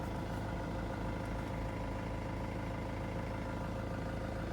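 Ford Transit camper van engine idling, a low steady rumble with an even mechanical hum, faint and unchanging, no voices over it.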